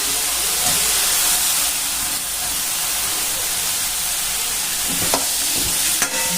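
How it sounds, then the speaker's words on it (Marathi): Large-cut potato pieces frying in hot oil in a pan, a continuous sizzle and hiss throughout with a couple of brief scraping knocks near the end, close and steady. "आता याच्यात बटाटा टाकून घेऊया"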